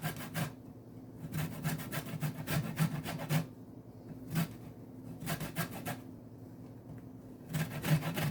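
Lemon rind rasped over a hand grater for homemade lemon pepper seasoning, repeated close scraping strokes in quick bursts with brief pauses between them, and no talking.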